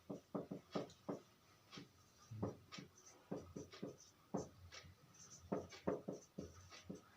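Pen or chalk scratching out a worked solution to a Class 10 maths problem, in quick uneven strokes and taps, close and fairly quiet with no talking over it.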